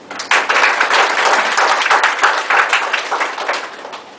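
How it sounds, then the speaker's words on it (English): Audience applause for the kids at a corporate meditation session, a burst of close, crisp hand clapping from a group that swells quickly and then slowly tapers. "Give a big clap for all the kids in the world."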